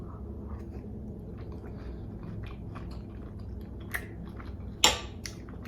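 Close, quiet chewing of a bite of shrimp with peppers and broccoli, soft wet mouth sounds over a low room hum, with a couple of sharper clicks and one louder crunchy snap near the end.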